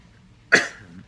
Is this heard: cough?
yes